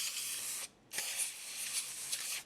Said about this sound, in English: get the canned air into the keys